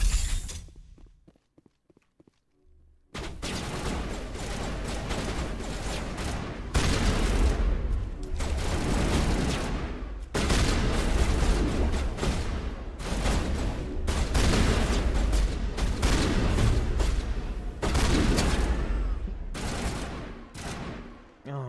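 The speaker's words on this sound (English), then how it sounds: "I might want to use my shotgun then" Shotgun blasts and other weapon fire from Mass Effect Legendary Edition erupt after a quiet start, with repeated loud bursts, footsteps and combat noise continuing in close-quarters fighting.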